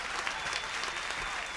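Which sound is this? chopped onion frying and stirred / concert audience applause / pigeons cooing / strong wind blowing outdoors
concert audience applause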